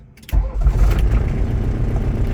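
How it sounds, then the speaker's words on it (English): Diesel VW Rabbit pickup with its fuel screw turned up, cold-started: a brief crank, then the engine catches and settles into a loud, steady, rumbling run close by. "I'm going to give you guys a cold start."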